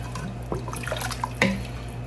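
Broth is poured into a pot of gumbo greens, making brief near liquid splashes and drips with a few soft clinks, quiet and without talking.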